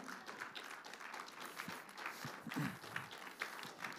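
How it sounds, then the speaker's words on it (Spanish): Faint, dense applause from a church congregation, a soft continuous wash of clapping with a few scattered louder claps, heard at a distance. "Denle ese fuerte aplauso al Señor"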